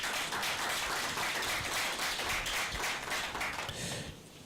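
A crowd applauds a skills development program at a virtual fair: dense, steady clapping that rolls on evenly and then thins out just before the end, heard fairly quietly.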